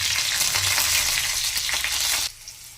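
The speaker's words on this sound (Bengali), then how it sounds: "কালো জিরে কড়ার মধ্যে দিয়ে দিই গোটা রসুন। এবার দিয়ে দেবো কাঁচা লঙ্কা।" Black cumin, whole garlic and green chillies frying in hot oil in a wok, giving a loud steady sizzle that cuts off abruptly near the end, with no voices over it.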